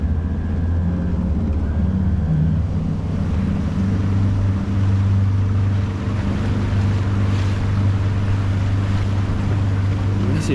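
An outboard motor on a boat on Lake Peipsi drones loudly and steadily at close range, with wind and water noise around it and no talking.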